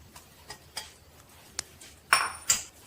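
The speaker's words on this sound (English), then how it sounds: "Keep stirring it to avoid the lumps so that it is properly blended." Pancake batter stirred in a bowl: a handful of separate light utensil taps and clinks against the bowl, close and fairly quiet, with a brighter scrape near the end and no voices.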